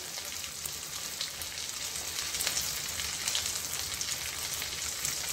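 Ground spices and turmeric frying in a pan, a steady soft hiss and sizzle with faint crackles, continuous and even throughout, fairly quiet, with no talking.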